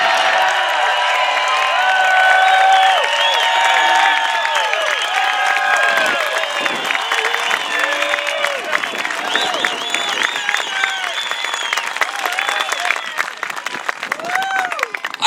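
A large crowd gives Senator Mike Lee a standing ovation, with sustained, loud, even applause mixed with cheers and whoops rolling on steadily throughout.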